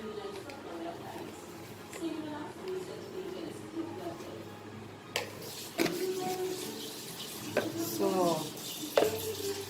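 Goan beef roast mixture sizzles softly in a pan while being stirred, with occasional scraping and clinks, under a person's talking.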